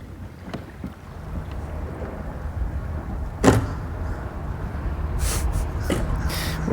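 Wind gusts roar against the microphone on a bridge over water during crab-bait fishing, a constant low rumble with a few sharp knocks and bursts of buffeting, with no voice over it.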